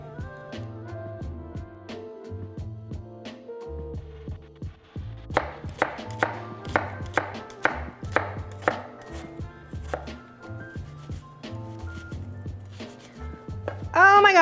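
Red onion chopped on a cutting board, a long run of crisp knife taps, sparse at first then a quicker rhythmic burst of close, sharp strikes, with faint background tones and no clear speech.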